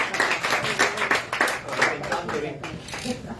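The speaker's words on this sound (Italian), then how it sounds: "intanto faccio un applauso" An audience at a talk with comics artist David Lloyd claps in an uneven patter of distinct hand claps for several seconds, moderately loud, with murmuring voices underneath.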